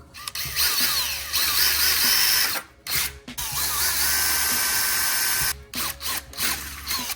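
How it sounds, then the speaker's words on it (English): A power drill whirs in long bursts with brief pauses between, a grinding mechanical whine close by, drilling pilot holes to mount a car's license plate lighting. "I'm gonna drill my pilot holes for this side"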